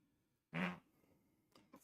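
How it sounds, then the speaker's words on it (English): Short, loud burst of flatulence from a man during a back and biceps weight-training session, followed by a few fainter broken noises. "Farting a lot right now, though."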